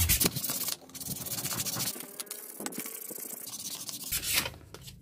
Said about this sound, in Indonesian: ini tinggal di amplas manual